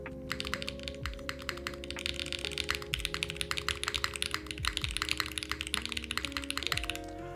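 Steady, rapid typing on a KBDFan KBD8X mechanical keyboard with PE foam, the keystrokes muted and thocky with little ringing or resonance, continuous throughout against a faint low hum.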